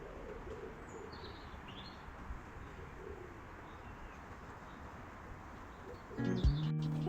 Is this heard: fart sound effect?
no